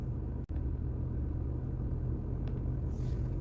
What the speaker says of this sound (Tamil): இப்போ இங்கேருந்து நம்ம வண்டியை ஸ்டார்ட் பண்ணிடுவோம்.